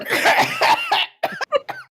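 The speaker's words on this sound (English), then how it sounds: "There's the Spanish cough again" A burst of several harsh, close coughs in quick succession, followed by a few shorter, choppier coughs after a brief pause, loud and alone.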